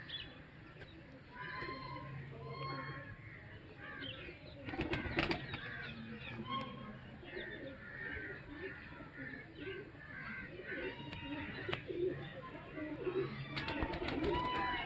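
Pigeon cooing from a female Tedhi pigeon, soft repeated low coos with occasional wing flutters, heard under steady conversation between men.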